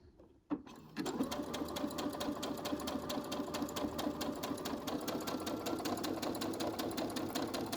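A home sewing machine stitching a buttonhole in fabric starts after a short click and then runs steadily with a fast, even rhythmic chatter of the needle, close and continuous to the end.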